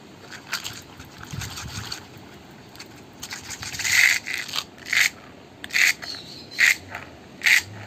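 Currupio button whirligig toy spun on its string, a soft rhythmic whirring with about five sharp buzzing pulses recurring roughly every second toward the end, close and fairly quiet.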